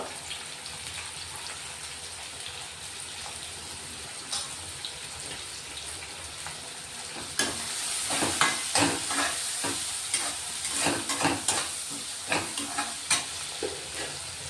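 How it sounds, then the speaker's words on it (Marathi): Onions sautéing in a pan for a mixed vegetable dish, a steady soft sizzle with stirring that turns busier halfway through, scraping and tapping bursts close by, and no voices. "कांदे थोडे परतून झाले लालसर झालेत बघा"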